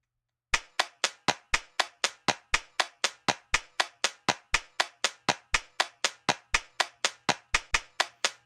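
A butt clap drum sample in Logic Pro plays as a steady run of about thirty sharp, identical slaps, evenly spaced around four per second, crisp and dry with no talking.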